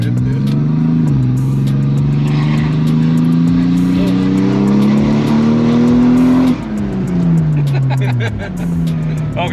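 A car engine revs hard and pulls through rising gears, loud and close, with short shifts and a dip before it climbs again, while people talk over it.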